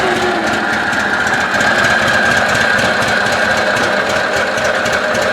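A 1963 Cushman Mailster engine idles roughly, a loud steady mechanical chatter with rapid rhythmic knocking pulses that stays close and constant throughout, with no talking.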